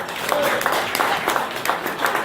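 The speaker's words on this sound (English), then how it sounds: "Clap if you know how to cook." Comedy show audience clapping, light scattered applause from a small crowd, brief and fairly close, with a voice speaking over it.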